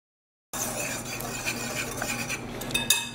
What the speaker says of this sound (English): it's just so much easier to just put everything in a bowl and whisk it together